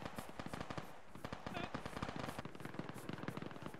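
Sustained automatic gunfire in a military video game, dense rapid bursts of shots crackling continuously and fairly close, with voices talking underneath.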